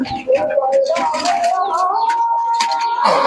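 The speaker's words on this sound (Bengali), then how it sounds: "কবুতর গুলো সব এবার ছাড়বে" Madras pigeons coo steadily in soft, rolling calls close by, with faint chirps and flutters around them and no talk.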